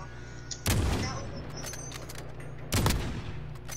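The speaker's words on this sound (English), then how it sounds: "The guy shooting at me." Two loud, close bursts of video game gunfire crack out about two seconds apart, followed by fading rumbles and smaller pops in between.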